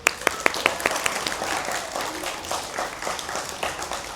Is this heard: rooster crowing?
no